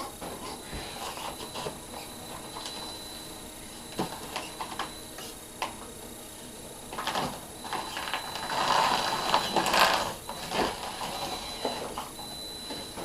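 A Redcat Ascent18 RC crawler, basically stock with rearranged electronics and a reversed motor, runs with a steady, fairly quiet whir of motor and gears, ticking and ratcheting, rising to a busier burst of gear noise midway before settling.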